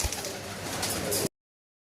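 Pigeons coo softly and nearby in a short burst, low rounded calls over a steady background, ending abruptly after about a second.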